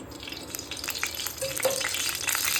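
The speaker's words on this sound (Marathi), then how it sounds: "कांदा बारीक चिरलेला चांगला त्याला लाल सोनेरी होईपर्यंत आपल्याला भाजून घ्यायचं" Finely chopped onion frying in oil for pasta, a close, continuous sizzle with light spatula stirring and occasional soft taps, gradually getting louder.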